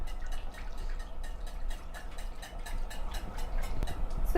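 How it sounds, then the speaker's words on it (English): Muffin batter with vanilla extract being whisked in a bowl for little sweet potato muffins, a steady quick rhythmic ticking and clicking of the whisk against the bowl, close and even, with no speech. "now we're going to whisk it really well until all the ingredients are blended"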